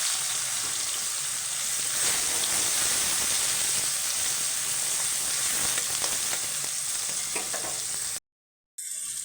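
Sliced onions fry in oil with dried chilli, whole garam masala, cinnamon and a bay leaf, making a loud, dense, continuous hiss close by. The sizzle cuts out abruptly near the end, and no one speaks.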